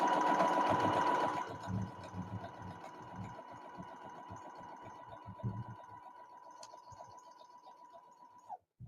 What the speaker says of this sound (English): Cut and sew one row.